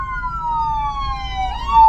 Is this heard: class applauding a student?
no